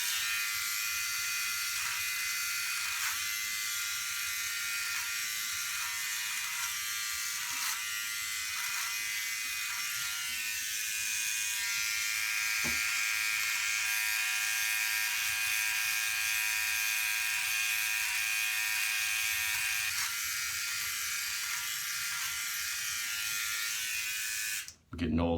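A Philips OneBlade electric trimmer buzzes steadily and close while trimming a goatee, a continuous high whine running almost the whole time before cutting off near the end.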